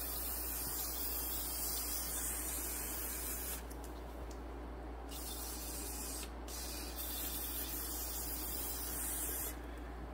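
Penetrating fluid sprays from an aerosol can onto bolts and a nut on a 2010 Ford F150 brake assembly, a loud close hiss that runs steadily with two short breaks.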